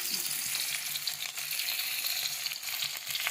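Chopped onion hits two spoons of hot oil in a kadai, producing a continuous close sizzle with a faint bubbling crackle for a few seconds.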